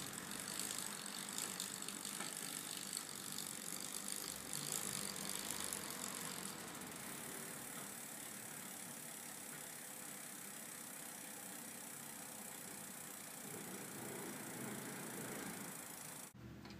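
A bicycle rear wheel without a dynamo hub spins freely, giving a steady, faint, even whir and soft ticking that continues unbroken throughout, with no voices.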